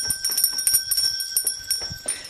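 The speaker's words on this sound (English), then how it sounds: "Where's me bell?" Hand bell ringing during a live stream, a rapid run of bright metallic strikes with sustained high ringing tones, close and fairly loud, with no talk.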